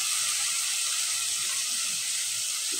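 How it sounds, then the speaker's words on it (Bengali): Ground coriander, cumin, turmeric and chili masala frying in a pan for an air fish curry, a loud steady hiss of sizzling oil with no pauses. "মশলাটা আমি কষাই নেব এখন"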